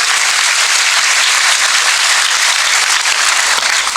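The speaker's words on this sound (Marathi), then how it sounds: "त्यासाठी जोरदार टाळ्या हो द्यायच्या." Loud, dense audience applause at a comedy speech event, continuous clapping from a large crowd filling the whole stretch without letting up.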